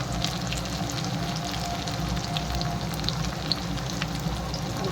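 Tomato sizzling as it fries in a hot pan for begun bharta, a steady dense crackle and hiss that runs unbroken and close, with no voices.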